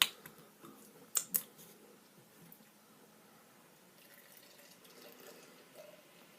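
Silver City Brewing Tropic Haze IPA poured from a freshly opened can, a faint fizzing, gurgling stream after a couple of sharp clinks, continuing quietly throughout.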